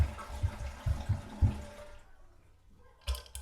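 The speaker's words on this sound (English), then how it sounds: "shut it off, give it a flush" A toilet flushes with its water supply shut off, a rumbling gush that fades out, followed by a short burst of water noise near the end.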